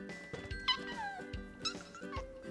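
Soft, repeated meows from a cat in a VR cat video game, several short wavering calls in a row over faint game background sounds.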